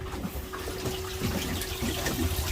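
Washdown pump on a Grady White 236 Fisherman boat running and pumping salt water, a steady close gushing and splashing of water over a constant low hum.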